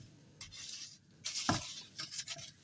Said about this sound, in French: j'ai plus qu'à mélanger tout ça